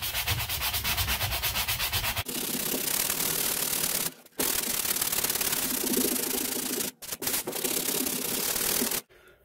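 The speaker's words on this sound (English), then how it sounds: "So I'm gonna focus on sanding some of this" Rhythmic scraping and rubbing of hand sanding a drywall patch over a hole filled with spray foam continues in bursts with a few brief pauses; no talking.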